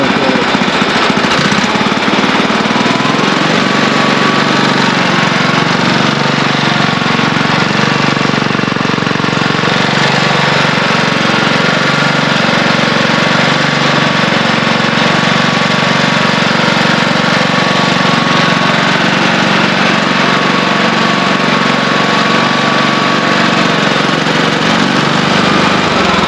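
A Wheel Horse lawn tractor engine runs steadily for the whole stretch, a loud, continuous rough mechanical drone with no breaks or changes in pace.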